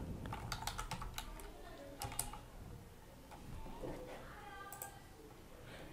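Someone types a job title on a computer keyboard, a quiet run of quick key clicks in short bursts with pauses between them, over a faint background hum.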